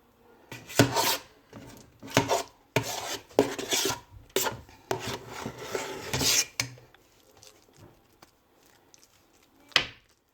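A spatula scrapes and spreads the layered pâté chinois across a baking dish, a run of rough, rasping strokes in quick succession, then sparser scrapes and one last sharp scrape near the end, with no talk.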